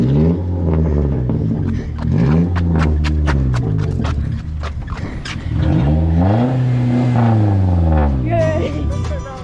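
A push-started car's engine catches and revs up, its pitch rising and falling in several swells, loud and close, with people talking over it throughout.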